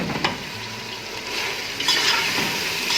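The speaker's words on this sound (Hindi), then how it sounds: "टमाटरों को भी हमने भूनना है 1-2 मिनट के लिए।" Tomatoes fry over full heat for Sindhi biryani, giving a steady loud sizzle and hiss with stirring scrapes, growing briefly stronger near the end, no voices.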